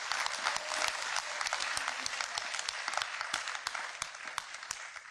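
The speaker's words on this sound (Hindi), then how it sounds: "तालियां थोड़ी सी भारी है।" Sustained audience applause at a Hindi poetry recital, a dense wash of many hands clapping steadily throughout with a few sharper claps standing out.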